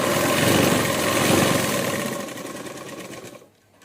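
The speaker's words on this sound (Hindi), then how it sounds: "अब हम क्रॉस बेल्ट को दाब सिलाई लगा लेंगे जोड़कर" Sewing machine running steadily while stitching the cross belt onto a lined blouse, a dense continuous whir with a rapid needle rhythm, close and loud, slowing and stopping just before the end.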